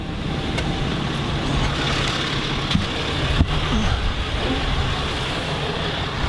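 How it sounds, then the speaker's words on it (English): A truck engine runs at a steady idle, a continuous low rumble filling the background, with a couple of faint knocks over the top and no talking. "I always have to make sure I come out and start his truck for him"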